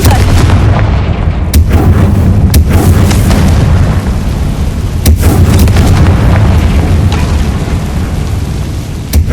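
In the video game Hogwarts Legacy, a Confringo spell sets off a loud, sustained explosive roar with several sharp booming bursts, heard up close with no talking.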